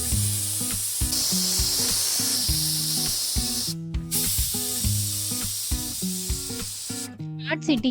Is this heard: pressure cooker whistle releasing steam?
yes